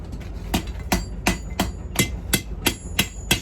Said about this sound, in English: Just hammer that.